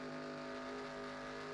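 Onboard race car engine during Cup Series practice at Daytona in a racing video game, a steady sustained drone with a strong held pitch running throughout, loud and close, with no talk.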